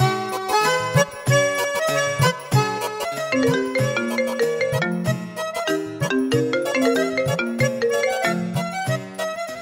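A mobile phone ringtone plays a continuous bright electronic melody for about ten seconds, with layered chiming notes and a steady rhythm, loud and close, with no voices.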